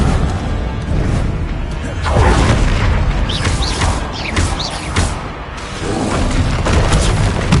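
Incendio fire spells in Hogwarts Legacy, loud whooshing and booming bursts of flame over a dense, continuous rumble of combat effects.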